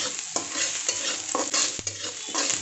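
Onions and urad dal are stirred and fried in a pan over full heat for upma, giving a steady close sizzle broken by repeated scraping stirs, with no voices.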